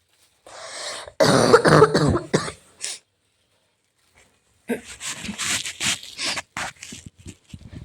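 A person coughs several times in a harsh, close burst, goes quiet, then coughs and clears their throat again in a longer rough run.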